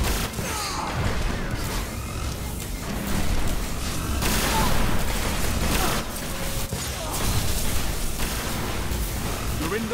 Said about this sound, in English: it's like all these fusion rifles